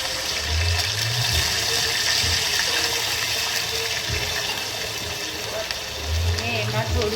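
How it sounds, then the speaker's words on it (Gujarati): Water is poured into a khaman dhokla mixture with green chillies and curry leaves, giving a continuous rushing, splashing pour with a few low thumps along the way. "હવે એમાં પાણી એડ કરીશું."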